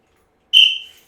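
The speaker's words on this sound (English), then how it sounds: "Anytime you hear this whistle, stop whatever you're doing and come back to the screen" A single short, sharp whistle blast from a physical education class starts loud and tails off quickly within about half a second.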